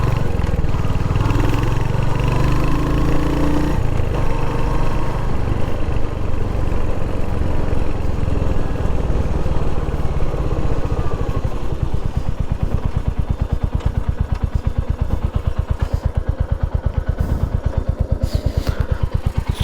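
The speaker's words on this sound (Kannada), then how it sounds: "ಎಕ್ಸಾಸ್ಟ್ ನೋಟ್ ಹೇಗಿರುತ್ತೆ ಅಂತ. ಇದು ಐಡ್ಲಿಂಗಲ್ಲಿ ಈ ಥರ ಇದೆ." Royal Enfield Hunter 350 motorcycle idling close by, a loud continuous low exhaust thump with an even, steady pulse throughout and no talk.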